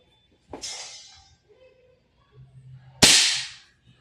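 A Redmantoys Edition 14.5 BCM MCMR MK2 airsoft gas blowback rifle fires two separate sharp, close cracks a few seconds apart, each trailing a short hiss of gas, with faint background noise between.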